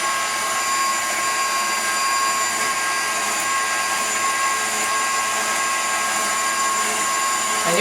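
A KitchenAid stand mixer drives its spiralizer attachment through a carrot, giving a steady, loud motor whir with a constant high whine that runs unbroken throughout.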